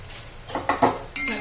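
A spoon stirs capsicum pickle with amchur powder in a metal pan, making a few scraping clinks that grow louder near the end. The sound is close, with no talk.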